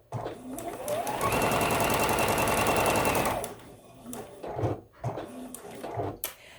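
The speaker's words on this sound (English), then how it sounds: "I'm just going to go ahead and sew them together" Sewing machine stitching quilt block fabric pieces together, a steady close run of rapid needle strokes lasting about three seconds, then stopping, followed by quieter handling sounds.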